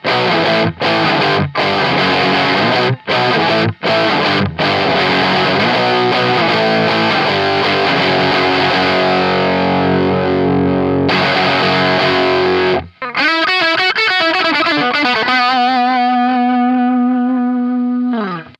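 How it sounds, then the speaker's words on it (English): Gritty, gravelly overdrive pedal on electric guitar playing chords with brief stops, then a sustained distorted chord ringing out and slowly decaying with a wavering, buzzing edge. "it's a really cool gravelly distortion"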